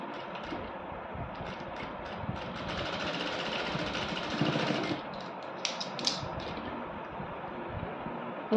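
Sewing machine stitching the open edge of a leg or sleeve in boutique-style finishing, a steady close mechanical whirring run that speeds up briefly midway before settling, with no talk over it.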